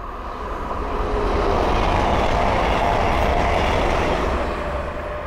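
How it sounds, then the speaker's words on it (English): A pair of Super Voyager Class 221 trains rushes past at Linslade on the West Coast Main Line, a loud, broad roar that swells and holds steady, with no talk. "the next train to pass by is a pair of Super Voyager Class 221"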